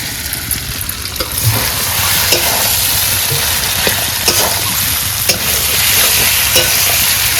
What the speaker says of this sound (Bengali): লবণ মশলা হয়ে গেছে ফুলকপিটা দিয়ে দিচ্ছি